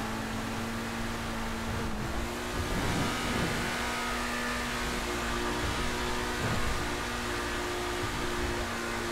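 Infernus Classic sports car in GTA V, its engine holding a steady loud roar with a droning tone and slight revving swells, continuous and without talk.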